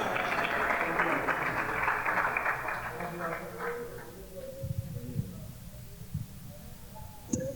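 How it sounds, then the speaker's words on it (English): A Labour Day lime crowd gives a round of applause for a calypso performer, a broad wash of clapping that gradually fades out, followed by a few scattered claps and murmuring voices. "Round of applause for him, please."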